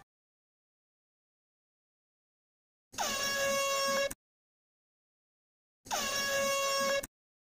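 Two loud air horn blasts, each lasting about a second, separated by a few seconds of silence.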